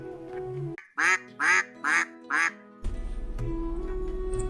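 A white duck quacks four times in a loud, evenly spaced run, with quiet ambient noise before and a steady buzzing hum after.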